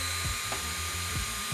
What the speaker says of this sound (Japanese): この初代ブロワーベイビーで同じ距離から風を当てていきます